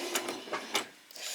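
A sewing machine stitches down onto lace for a doll's peasant top, giving short, quiet mechanical bursts of rapid stitching separated by brief pauses.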